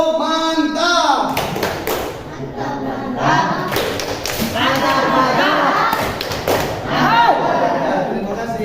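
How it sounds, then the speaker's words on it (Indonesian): A classroom group gives a rhythmic patterned clap in unison for a team at the front, steady percussive thumps and taps running throughout, mixed with voices and chatter. "Ya, tepuk mantap dulu dong buat kelompok ini depan. Tepuk mantap."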